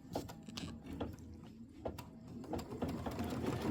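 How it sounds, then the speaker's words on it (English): A computerized embroidery machine stitches background fabric onto a placement line for a quilted pillow, a rapid steady mechanical whirring with rhythmic needle clicks, close and alone. "It's going to stitch the background to placement line."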